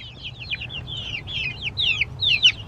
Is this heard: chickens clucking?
yes